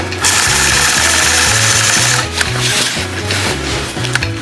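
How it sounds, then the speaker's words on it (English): A sewing machine running continuously in stitch-regulated mode for free-motion quilting along a ruler, a loud, close, steady mechanical chugging rhythm with brief shifts in pace as the fabric is guided. "I'll engage the machine, stitching in the stitch regulated mode with my stitch length set at 14 stitches per inch."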